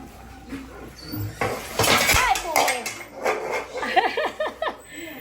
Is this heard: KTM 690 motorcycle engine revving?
no